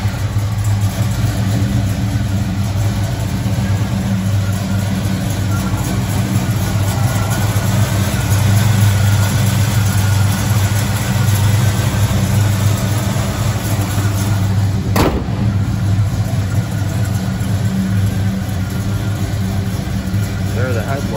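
A 1972 AMC Javelin SST with a 304 V8 runs at a steady idle, a continuous low rumble close by that holds evenly throughout, with one sharp click partway through.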